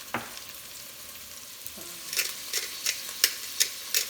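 Cabbage soup vegetables sauté with carrots in a pan, giving a soft frying hiss and a run of rhythmic scraping stirs that grow louder toward the end, close up with no talk.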